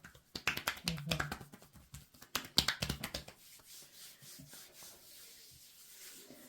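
Dry rubbing strokes of hands over the skin of a dry back during a massage, in quick bursts, with a few sharp slaps and snaps, then softer brushing as a voice murmurs faintly.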